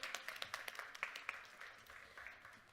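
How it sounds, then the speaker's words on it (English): Faint, thin applause from a conference audience thanking a panel, scattered claps blending into a soft patter at a distance, with no voices over it. "Give them a round of applause."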